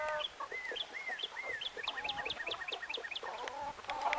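Hens cluck and chirp close by, a busy run of short, rising calls from several birds in a backyard flock, with no talking over them.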